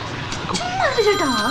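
A telephone rings briefly with a bright, warbling electronic tone that rises and falls, fairly loud and close, in a short burst.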